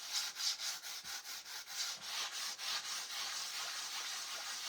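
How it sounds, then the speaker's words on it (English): A very light sanding block is rubbed over a wood craft piece to knock off raised grain, making a close, rhythmic series of rasping strokes that gradually blend into a steady scratch. "just come through with a very, very, very light sanding block. And you're going to sand off all of those little raised pieces"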